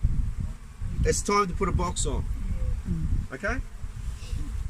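Honey bees hum steadily around an open hive during an inspection, a soft continuous buzz running beneath someone talking.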